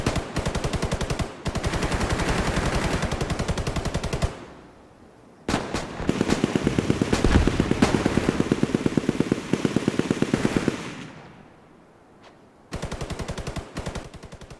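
Rapid automatic gunfire from The Division 2 benchmark, loud sustained bursts of shots that stop and start in several long volleys, with short quiet gaps between them.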